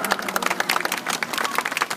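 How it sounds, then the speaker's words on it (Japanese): Thin, scattered clapping from a small audience at a Komeito political rally in Shizuoka, a handful of separate hand claps in an uneven patter, moderately close and fairly quiet, with no talk over it. "ちょっと拍手が少ないですね"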